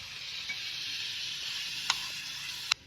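Vegetables and toor dal sizzle steadily in a hot pan, a bright continuous hiss broken by two sharp scrapes or clinks of the stirring spoon near the end.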